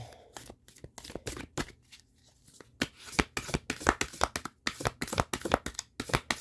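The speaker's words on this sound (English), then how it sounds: "I love these round decks, but they're not the easiest to shuffle" A round tarot deck is shuffled by hand, bursts of crisp riffling and card slaps in irregular clusters, close and fairly quiet, with a short pause early on before rapid repeated shuffles.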